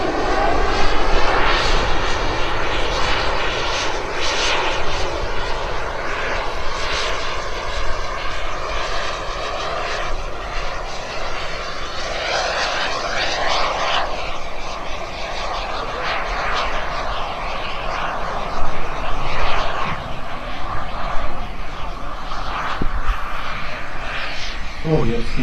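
A Gotha P.60A RC turbine jet model comes in to land at an air show, its engine whining and roaring steadily throughout with swelling passes, while people talk intermittently over it.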